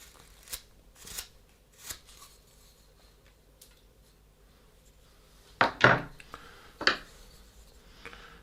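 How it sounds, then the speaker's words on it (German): Gouge cutting into a small hand-held wooden figure to shape the sleeves, a few soft scraping strokes followed by sharper, louder cuts near the end, close and intermittent with quiet pauses. "nehme ich meine Hohleisen und schneide diese Ärmel schön heraus"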